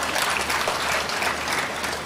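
Audience applause at a Tamil motivational talk, a steady dense wash of clapping that runs through the whole short stretch at a moderate, even level, with no voices over it.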